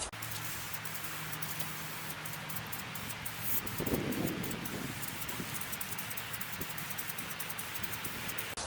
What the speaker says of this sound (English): I'm outside and the wind's blowing pretty hard.